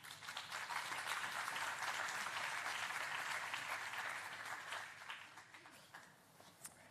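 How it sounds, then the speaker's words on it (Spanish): A warm round of audience applause greets a guest at a science event, strong steady clapping that slowly thins out toward the end. "os pido un fuerte aplauso para José Luis Moreno"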